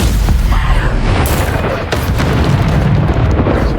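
A booming Bombarda blasting spell explosion in the video game Hogwarts Legacy: loud, dense rumbling impacts that continue throughout, with voices underneath.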